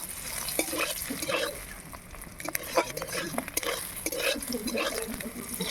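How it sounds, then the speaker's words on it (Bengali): Eggs fry in a pan for egg curry, a close crackling sizzle with irregular scraping and clinking of a spatula against the pan, fairly loud and busy throughout, with no speech. "ডিমগুলোকে একটু আমি লাল লাল করে ভেজে তুলে নেব"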